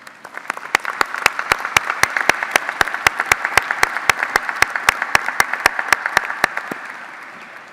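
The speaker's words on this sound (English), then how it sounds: "So let's give them a round of applause." A graduation ceremony audience for the Columbia dental school class of 2013 bursts into loud applause with evenly spaced, emphatic claps standing out over the wash of many hands, fading slightly toward the end.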